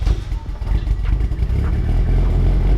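A Mitsubishi Evo X engine with a newly fitted exhaust rumbles loud and close, its low, throbbing idle swelling into a steady, sustained rev with no talking.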